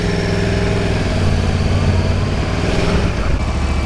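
A Yamaha R1 sportbike idles loudly and steadily up close in traffic, its cooling fan running along with the engine hum.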